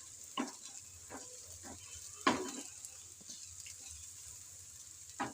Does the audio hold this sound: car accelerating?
no